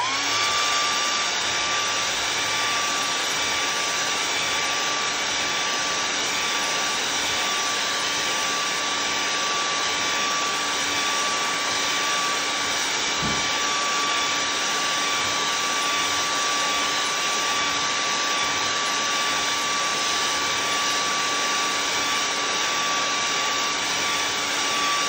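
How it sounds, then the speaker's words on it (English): A hair dryer blows on fresh painted buffalo plaid, a steady, loud, unbroken whoosh held for the whole stretch with no talking. "so we're gonna blow dry again"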